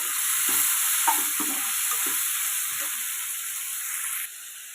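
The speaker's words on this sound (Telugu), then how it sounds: "కడిగి పెట్టుకున్న దొండకాయ ముక్కలు వేసుకుందామండి." Thinly sliced ivy gourd pieces frying in a pan, a steady loud sizzle and hiss with a few scraping stirs of a spoon, close up.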